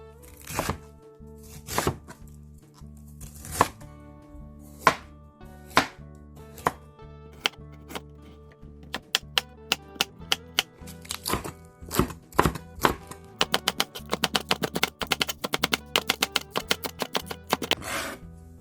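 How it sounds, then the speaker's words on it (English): Knife chopping cabbage on a cutting board, a series of sharp, close thuds that start spaced apart and speed into a quick, dense rhythm with no talking. "Let's cut some vegetables."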